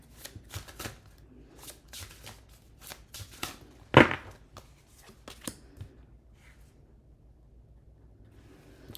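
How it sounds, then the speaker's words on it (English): Shuffling a new deck of cards up close: a quick burst of riffling flutters followed by a sharp snap and a few softer ruffles and taps, with no voices. "There's nothing like shuffling a new deck."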